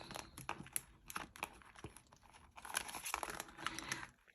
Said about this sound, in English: So the first thing I want to do is I want to take out the monies out of this envelope.